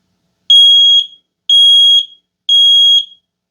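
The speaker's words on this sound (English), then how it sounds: "The alarm will sound loudly." An X-Sense smart Wi-Fi smoke detector runs its test alarm: three loud, piercing electronic beeps in steady rhythm, each lasting about half a second with short gaps between, close and alone with no talking.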